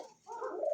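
A pair of pigeons giving a single brief low coo, close and soft, with no talk.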